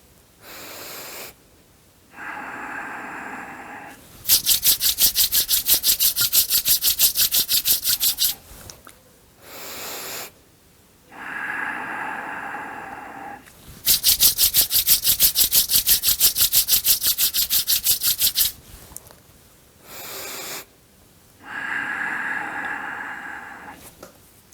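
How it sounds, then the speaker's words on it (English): Palms being rubbed together briskly, in alternating bursts of loud, close friction and softer breathy passages separated by short pauses, with no talking. "rub it"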